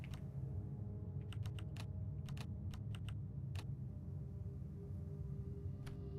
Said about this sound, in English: Sorry if you can hear my fake typewriter. It's for my writing program.